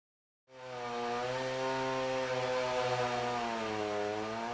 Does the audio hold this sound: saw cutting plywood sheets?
yes